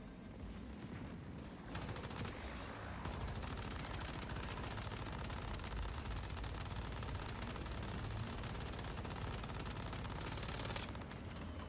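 Dense automatic gunfire and rapid shooting from the survival shooter Once Human, sustained and loud across the whole stretch, with a brief lull near the start and layered bursts of weapon fire throughout.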